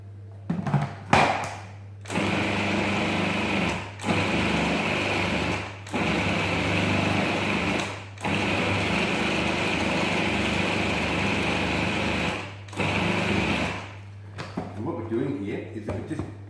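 A food processor pulses cold pastry dough of butter and cold water in steady bursts, the motor hum cutting in and out with short pauses between pulses, fairly loud and close.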